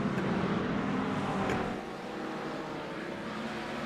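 Ford Mustang race car engine in a racing game, circuit racing at Interlagos, a loud steady broadband roar held throughout, easing slightly partway through with no talk over it.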